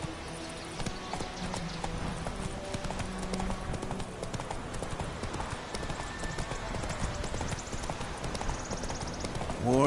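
Roach, the horse in The Witcher 3 video game, gallops with rapid, loud hoofbeats in a driving clip-clop rhythm close to the listener, and no voices are heard.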